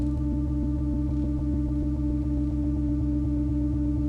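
A granular texture from a Polyend Tracker in ping pong mode hums as a steady low tonal drone, threaded with a fast, even stutter of tiny grain clicks that repeats continuously.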